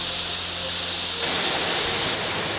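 Cedar Creek Falls waterfall in Mapleton National Park, Queensland, with water flowing hard and pouring as a steady, loud, broadband rush that grows fuller and louder about halfway through.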